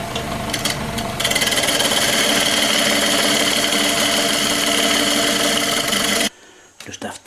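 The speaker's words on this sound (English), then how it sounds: "Now I've got to turn the tenon quite a lot thinner." Wood lathe turning a tenon on a shallow wooden box: a loud, continuous scraping whir of the gouge against spinning wood for about six seconds, then cutting off abruptly to quieter handling noises.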